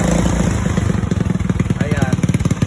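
Motorcycle engine running on organic motor oil, a close, loud, rhythmic putter with a clattery idle pulse, heard under someone talking.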